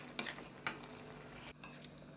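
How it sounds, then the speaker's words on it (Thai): Black crab and pineapple curry is stirred in a pan, a few scraping clinks of utensil against the pan over a soft bubbling simmer, faint and close with no talking. "เราก็คลุกเคล้าค่ะ"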